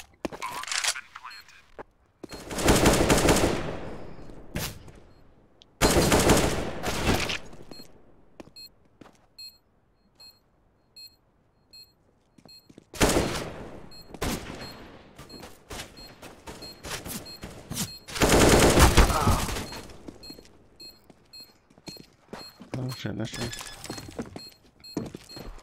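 Bursts of automatic rifle gunfire from Counter-Strike: Global Offensive, several loud separated volleys with quieter gaps and faint game beeps, voices talking between shots.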